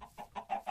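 Chickens cluck in the video game Minecraft, a run of short, soft, clipped clucks in quick succession, fairly faint and with no other sound around them.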